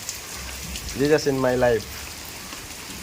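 Steady rain falls outdoors as a continuous soft hiss, with a short burst of a voice singing or talking partway through.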